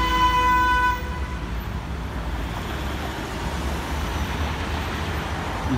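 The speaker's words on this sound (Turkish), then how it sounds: "İlk kez korna çalan birini duydum." A car horn honks once at the start, a short sustained tone, then fades into the steady rumble of passing road traffic on a street in Wrocław, Poland.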